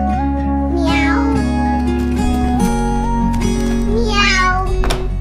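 A cat meows loudly and up close in two drawn-out, rising and falling calls, with a steady tonal backdrop between them.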